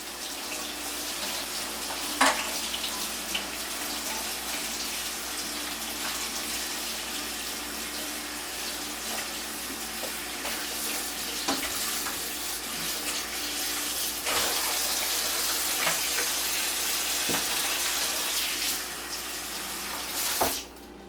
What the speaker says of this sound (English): So I'm rinsing my ham off.